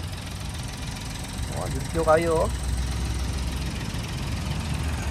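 The 1.0 engine of a 2023 Toyota Wigo G automatic idles with a low, even rumble, while someone talks briefly over it near the middle.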